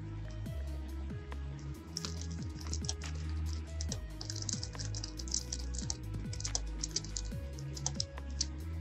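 Typing text on a computer keyboard, a steady stream of close, soft key clicks at a quick irregular pace over a low background hum.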